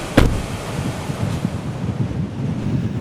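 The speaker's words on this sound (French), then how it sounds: "lorsque la rafale est passée, le mur de poussière est passé" A strong wind gust during a tornado-chasing storm, passing with a wall of dust, roars as a rough, continuous rumble buffeting the microphone, with a sharp burst near the start.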